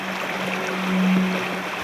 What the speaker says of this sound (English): Lots of ice going down the river because we just had a big rain.